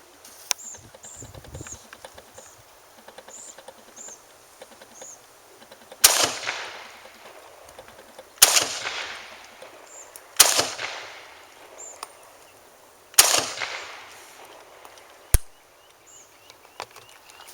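An SKS carbine fires four sharp shots at an outdoor range, each a loud crack a couple of seconds apart with a short decaying echo, followed by a fainter fifth report and quiet ambient sound between the shots.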